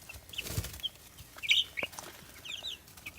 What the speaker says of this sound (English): The meat chickens are growing so fast.